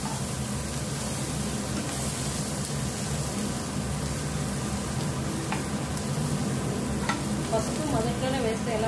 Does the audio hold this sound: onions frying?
yes